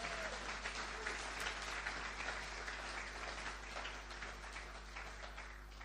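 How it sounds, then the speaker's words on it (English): A large audience applauds at the launch event of the African Diaspora Summit 2025 in Ghana, dense sustained clapping filling the hall at steady volume, slowly easing toward the end. "they all deserve a round of applause"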